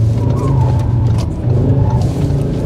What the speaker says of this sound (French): Sur un demi-tour, j'ai appuyé plein gaz.